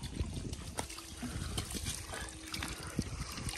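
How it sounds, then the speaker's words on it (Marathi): Tap water runs and trickles while raw chicken is washed in a village home, a soft, continuous dribble with small splashes and handling knocks, fairly quiet and close. "मस्तपैकी नळाला पाणी आलेलं आहे स्वच्छ"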